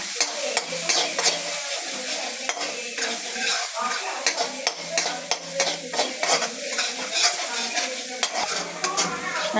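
Masala sizzling and being stirred in a pan for Kerala chicken curry, with a steady frying hiss and repeated scraping strokes throughout, close and fairly loud.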